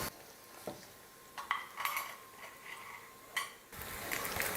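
Sweet appam being flipped in a kuzhi paniyaram pan, with a few light metallic scrapes and taps of a utensil against the pan over a faint sizzle, close by and fairly quiet.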